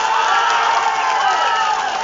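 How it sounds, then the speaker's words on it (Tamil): A large political rally crowd roaring with cheers and applause at the mention of Thirumavalavan's name, a loud sustained wall of voices and clapping. "திருமாவளவன் பெயரை உச்சரித்தால் ஏன் இவ்வளவு ஆரவாரம் செய்கிறார்கள்?"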